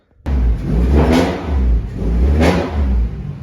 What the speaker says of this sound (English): Well, that's a weird sounding race car.